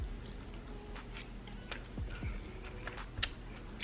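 Quiet chewing of salad with warmed chicken, a few soft crunchy bites and mouth sounds close by over a low background hum, with no talking.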